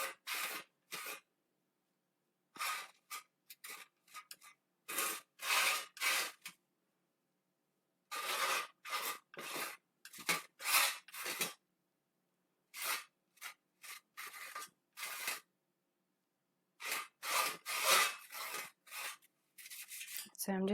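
Palette knife scraping acrylic paint across a metal surface, repeated rough rasping strokes in short bursts separated by silent pauses, close and clear with no talking.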